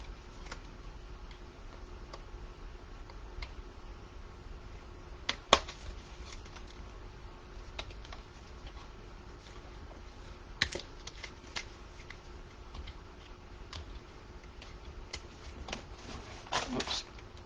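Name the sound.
scissors cutting paper for an art journal page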